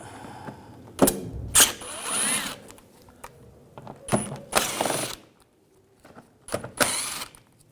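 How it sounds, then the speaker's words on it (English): T25 socket on a ratchet backing bumper cover screws out of a 2011-2018 Volkswagen Jetta, giving several short bursts of close mechanical ratcheting and whirring separated by quiet gaps. "Using a T25 socket, we're going to take these screws out."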